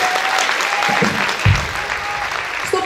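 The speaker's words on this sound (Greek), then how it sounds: "Χειροκρότημα" Loud applause from a charity concert audience, with a dense roar of clapping close by and a few thumps from the stage mixed in.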